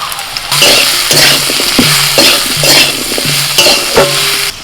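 Drumstick stalks and potatoes with ginger paste, salt, turmeric, cumin and chili powder frying in a pan, with loud sizzling and repeated scraping stirs in a steady rhythm, close up and with no talking.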